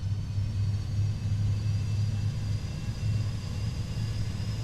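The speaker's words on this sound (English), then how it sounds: "We can listen to the APU spooling up." A Fenix A320 auxiliary power unit spools up in Microsoft Flight Simulator, heard from outside the airliner as a steady, heavy low rumble with a droning hum and faint high whine.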